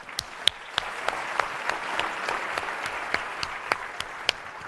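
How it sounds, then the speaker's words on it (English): An audience at the HOPE Global Forums 2022 pitch competition gives steady, moderately loud applause, with individual sharp claps standing out from the crowd throughout. "Give Brandon another round of applause."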